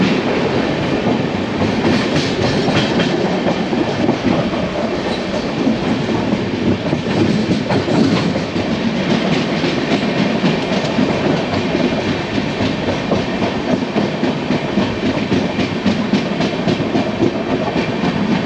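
Aboard the 22701 UDAY Express double-decker train between Visakhapatnam and Vijayawada, a loud, continuous rumble of wheels on rails carries steady clickety-clack beats throughout, with no talking.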